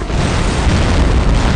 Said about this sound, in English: Oh, another bomb. Yeah, another one going off.